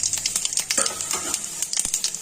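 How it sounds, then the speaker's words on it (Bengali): Dried red chillies and cumin seeds frying in hot oil as a tempering for broccoli dalna, a steady close sizzle with crackling pops and light stirring scrapes. "ফোড়নটা ভালো করে একটু ভাজা হবে,"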